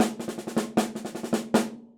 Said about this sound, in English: This rhythm lends itself perfectly to a 6-stroke roll.